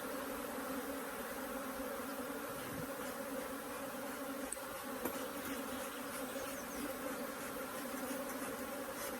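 Dense, steady buzzing of many honey bees, close and continuous throughout, with no talking.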